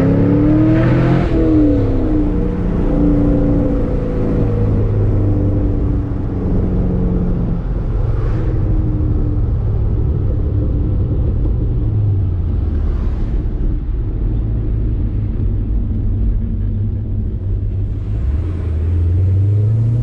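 A modified car with hood vents and a front splitter rumbles loud and steady in rush-hour traffic on a hot day, its low engine drone rising and falling through a few light revs and surges.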